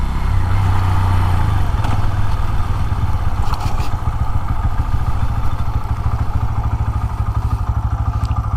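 A Bajaj Pulsar N125 motorcycle with ISG auto start-stop idles close by, a steady, loud, low engine rumble with a faint mechanical clatter throughout and no one talking.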